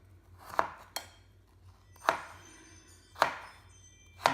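Frozen rhubarb chopped with a knife on a board: four sharp, separate knife strikes about a second apart, each with a short crisp thunk, close and clear in a quiet room.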